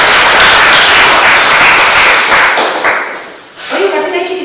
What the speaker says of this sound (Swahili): Hebu nipigieni makofi kwanza